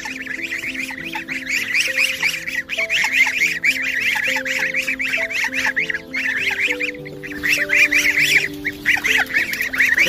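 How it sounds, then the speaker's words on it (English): Geese honk repeatedly in a rapid, overlapping chorus close by, steady throughout with no talk over them. "And here we have our geese."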